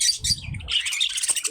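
Lovebirds in a cage give sharp, close chirps and squawks over a low rustling scratch, in a short busy burst.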